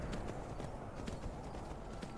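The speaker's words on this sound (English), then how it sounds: "Riding a horse in the snow, I go where's I wants to go." In the video game Skyrim, a horse rides through snow with steady, rhythmic hoofbeats that clip-clop evenly and fairly close, heard alone without talk.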